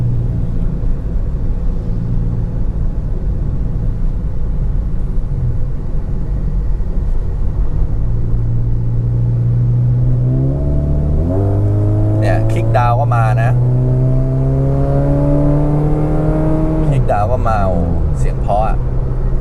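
A 2010 Toyota Vios 1.5E engine revs up in rising, falling sweeps, growing louder and higher over a steady idle rumble; the revs climb several times near the end.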